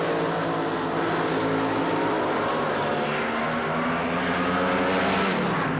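Drag racing cars launching side by side at the 1976 NHRA Springnationals, a loud sustained engine roar with rising harmonic pitch as the cars pull away, continuous for several seconds with no talking.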